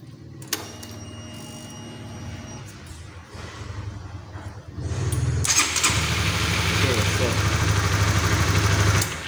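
A Honda CB150R motorcycle engine cranks on the starter and fires, settling into a loud, steady idle after a few seconds, close by.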